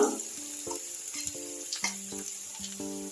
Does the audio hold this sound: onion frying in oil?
yes